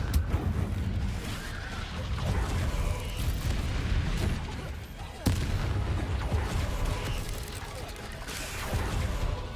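A booming fire spell explosion from the video game Hogwarts Legacy erupts amid a dense, continuous roar of in-game combat effects, with a sharp blast partway through and a voice speaking over it.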